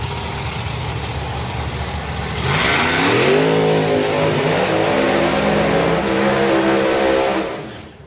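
Ford Thunderbird and Cuda drag racing cars at a drag racing event, engines idling then roaring into hard acceleration with rising pitch, loud and sustained before fading away.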